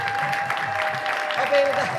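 Applause plays through a podcast studio, a steady wash of many clapping hands. Voices talk over it throughout.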